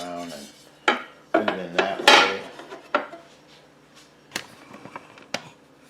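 Metal grill plate set into a Chefavor smart grill air fryer, several sharp clanks and scrapes of metal against the appliance, loud and close, spaced unevenly over a few seconds.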